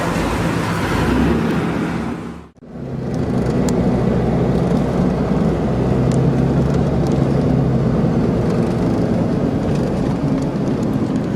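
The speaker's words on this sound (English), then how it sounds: "we're driving up the road to Volcan Baru" Car climbing a mountain road toward Volcan Baru in Panama, steady loud road and engine rumble with a brief dip early on, then continuous driving noise without talk.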